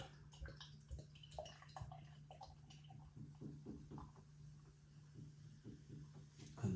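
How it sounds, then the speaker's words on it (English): Rain patters on a roof on a wet day, a faint, irregular spatter of drops and trickling water that runs on quietly throughout. "You can hear the rain on the roof."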